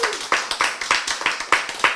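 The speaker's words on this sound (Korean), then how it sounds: "박수!" Quick, evenly spaced rhythmic claps, about a dozen sharp hand claps in steady tempo, close and fairly loud, like a small group clapping in time.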